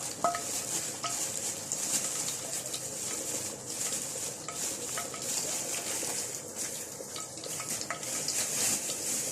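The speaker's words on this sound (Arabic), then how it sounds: "نحمر بقى شويه مكرونه مع بعض" Pasta frying in a pot while being stirred for a spiced chicken tray dish, giving a steady sizzle with busy scraping and clinking of a utensil against the pot throughout, close and continuous.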